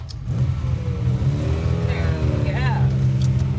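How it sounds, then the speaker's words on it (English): A 12-cylinder car engine hums steadily and then revs with a rising, smooth mechanical tone, heard from inside the car while people talk over it. "This is my first ride in a 12-cylinder."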